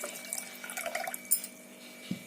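Water is poured from a container into a pressure cooker holding chana dal and potato pieces, a short, close run of splashing and gurgling with a small clink near the end.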